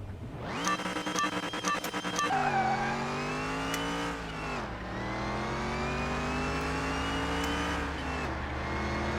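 A junkyard-built car in Car Mechanic 2021 revs hard on a half-mile run, its engine note climbing steadily and dipping briefly at each gear change, loud and continuous throughout.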